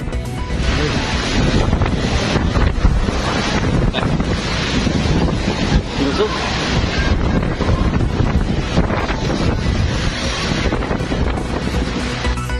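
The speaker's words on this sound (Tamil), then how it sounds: "பிலிப்பைன்ஸில் மணிக்கு 230 கிலோமீட்டர் வேகத்தில் வீசிய சூறாவளி." Strong, roaring typhoon wind of 230 km/h in the Philippines buffets the microphone continuously, with rushing gusts and churning surf-like noise and no voices.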